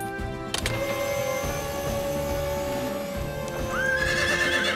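A cartoon horse whinnies and neighs, frightened by a rescue winch during a firefighter cartoon scene, with hoof clops and a mechanical whirring hum under it, ending in a rising whine.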